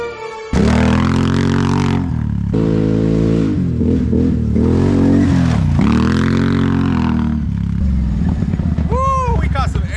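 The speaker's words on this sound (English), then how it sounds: "If you are digging the sound of this exhaust" A vehicle with a loud aftermarket exhaust accelerates hard on a top-speed run, its engine revving up and down through gears close by, filling the whole stretch with a strong harmonic roar and a brief whoop near the end.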